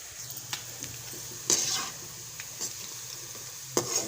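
Onions sizzle softly while frying in a pan for a village-style fish korma, with a steady low hiss and occasional stirring scrapes and clicks.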